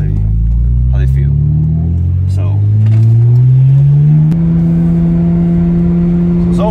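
A BMW 335i built with eBay parts drives along, its engine droning steadily and rising in pitch as it accelerates, with a gear change partway through and a loud constant road rumble.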